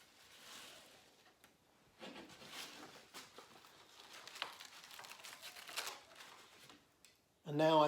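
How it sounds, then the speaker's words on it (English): Oven-dried, hardened incense sticks peel off a non-stick surface with faint, dry crackling and crinkling rustles in scattered bursts, quiet and close, with a louder sound entering at the very end. "now I'm going to try and peel them off"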